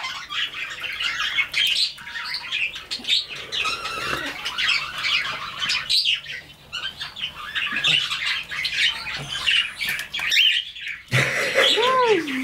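A pet bird chirps and squawks in rapid bright bursts close by inside a home, with brief sweeping whistles near the end and a faint voice in the background.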